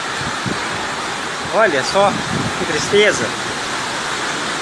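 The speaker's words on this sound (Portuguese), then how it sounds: "Gente, pelo amor de Deus, olha a ventania." Strong windstorm in Minas Gerais roaring as a steady broadband rush, loud and close throughout, while someone speaks over it in short bursts.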